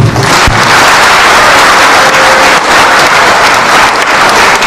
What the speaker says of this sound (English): Round of applause for Raila Amolo Odinga.